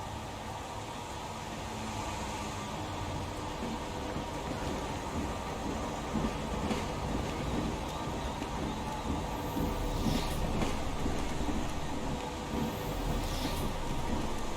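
A train rumbling past in the video game Heavy Rain, a steady broad roar of rolling wheels and carriages lasting throughout, mixed with rain-like hiss and a few faint metallic clanks, with no talking.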